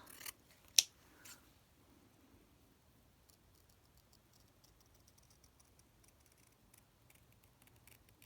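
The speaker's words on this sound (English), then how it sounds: "Might cut it out first and then I'll cut round it." Scissors cut out a hand-stitched vintage-style butterfly embroidery piece: one crisp close snip stands out, followed by very faint rustling and light ticking in a quiet room.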